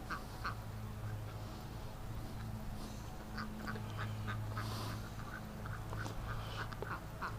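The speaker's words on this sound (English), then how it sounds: "Feed the ducks." Ducks in their pen quack in repeated short bursts, fairly close but soft, scattered across the stretch over a low steady hum.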